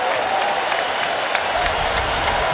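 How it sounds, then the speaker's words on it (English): A college basketball arena crowd at a Florida State versus Virginia game cheers and applauds in a dense, constant roar that fills the whole stretch, loud and enveloping. "this crowd's in full force here today"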